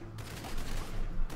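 Cannons firing in Knack 2 on PS4, in the City of Atheneum level: a dense run of booming blasts, loud and continuous for the whole short stretch, with no talk over it.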